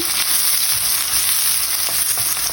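Chopped onion and garlic fry in hot oil, giving a loud, steady close-up sizzle with faint stirring scrapes throughout and no voices.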